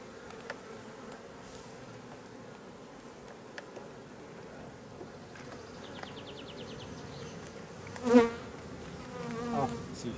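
Honeybees hum in a dense, steady drone from an open hive as frames are lifted and checked, with a louder close buzz passing near the end.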